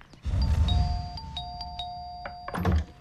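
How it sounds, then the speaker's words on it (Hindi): A doorbell in a Hindi film scene rings twice with clear electronic ding-dong tones over a low rumble and some movement noise. A sharper burst of chimes follows near the end. "कितना डोरबेल मारता है"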